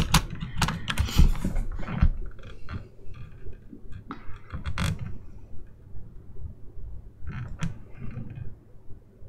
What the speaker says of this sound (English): the microphone is not actually on the keyboard, but it just picks up on everything, and I have a mechanical keyboard